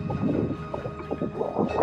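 Steady wind buffeting the microphone, a low rumbling roar that swells and eases over a couple of seconds, with no voices.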